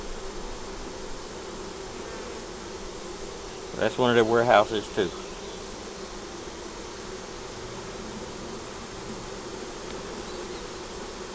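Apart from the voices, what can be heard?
honey bees buzzing during a hive check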